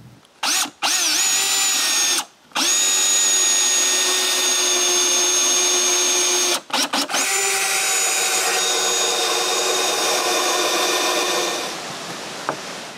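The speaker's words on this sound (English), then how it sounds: "And finally, screw 2 screws." A power drill drives screws into wooden lounge chair legs, whining loudly in long continuous runs broken by a few brief stops, close and without talking.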